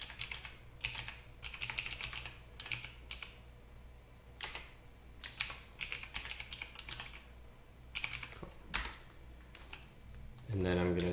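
Someone types an email address on a computer keyboard, with bursts of quick clicking keystrokes separated by short pauses, close and fairly quiet, and a brief low thump near the end.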